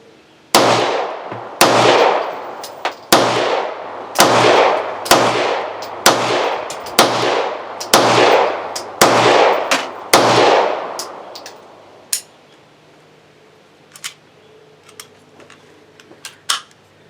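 A Hi-Point C9 9mm pistol fires about ten sharp, loud shots in an uneven rapid sequence, each cracking report followed by a short ring, then faint metallic clinks of brass afterward.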